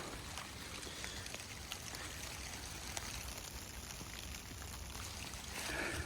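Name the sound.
rain falling in the woods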